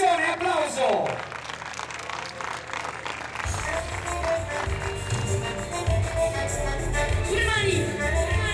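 A crowd at a live comedy and music show in Squinzano applauds the performer Damiano Mazzone. Scattered clapping and crowd noise run under a voice, and music enters partway through.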